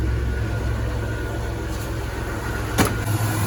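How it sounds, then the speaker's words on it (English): A car engine runs at idle with the air conditioning blower on maximum cold, giving a steady, continuous hum and rush of air with one brief click near the end. "Engine is running, max AC, blower up, all the way on cold"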